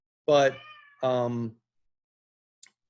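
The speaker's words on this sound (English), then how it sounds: "yes, that is my cat in the background." A pet cat meows twice in the background, two clear drawn-out calls close together, with a faint brief sound afterward and no other noise around them.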